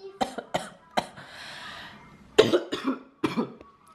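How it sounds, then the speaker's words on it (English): Dry coughing from an adult woman in a home kitchen: two clusters of sharp, harsh coughs, three or four in each, separated by a short breathy pause, close to the microphone. "Sorry about coughing."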